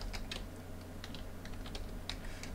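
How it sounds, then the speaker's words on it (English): Rapid typing on a computer keyboard while entering text into a document, light clicky keystrokes in quick irregular runs, close and quiet over a steady low hum. "And I'm going to type in eggs"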